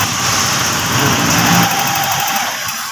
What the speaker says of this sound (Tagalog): Yan, hindi namatay yung makina.